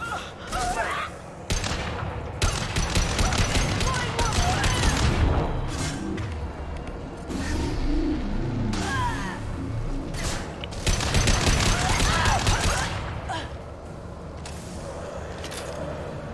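Heavy weapon fire and explosions in the sci-fi shooter game Mass Effect 2; loud bursts of rapid gunfire and booming blasts in waves, with short lulls between, mixed with in-game voices and combat effects.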